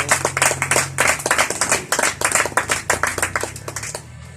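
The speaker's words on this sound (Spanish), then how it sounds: "Dele palmas al Señor." A church congregation claps hands in a steady, fast rhythm, many palms striking together loud and close for about four seconds, with a low hum underneath and the clapping thinning out at the end.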